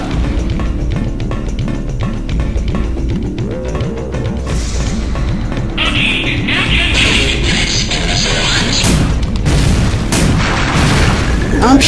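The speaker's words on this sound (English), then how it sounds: "I'm shooting!" Gunfire in the game Resident Evil Dead Aim, loud repeated booming shots with bursts and pops over a constant droning game background.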